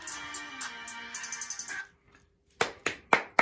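Four sharp hand claps ring out close and loud after music fades to near silence, spaced evenly like a brief round of applause from one person during a song reaction.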